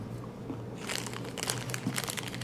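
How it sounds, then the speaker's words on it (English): A De La Rosa mazapan package is torn open, giving close, crisp crinkling and crackling of thin wrapper plastic that starts quietly and grows into a steady run of sharp rustles, with no talking. "I probably opened the package a little more rougher than Paulette did"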